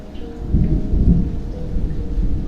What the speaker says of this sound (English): Sounds like a thunderstorm at this moment